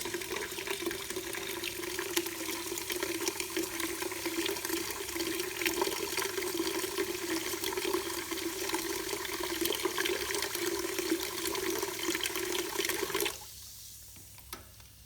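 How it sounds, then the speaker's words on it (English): Bar valve drink dispenser pouring Pepsi Max during a syrup line flush, a steady rushing stream of liquid that runs continuously for about thirteen seconds before cutting off abruptly. "So let's press the Pepsi Max button to dispense."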